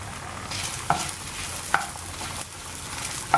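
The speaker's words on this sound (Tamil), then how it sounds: "இப்போ நம்ம மசாலுக்கு இது வச்சதெல்லாம் போட்டு வறுத்துவோம்" Masala ingredients for mango sambar roasting in a pan, a soft continuous sizzle with a spoon scraping and stirring, and three sharp clinks of the utensil against the pan spaced under a second apart, close by.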